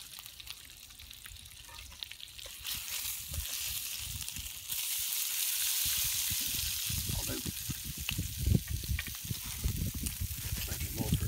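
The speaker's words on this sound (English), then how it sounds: "Going to add a few blueberries in, just cook them a bit, soften them up." Blueberries cooking in a pan make a steady frying sizzle that swells louder partway through, with stirring clatter and soft spatula scrapes close by.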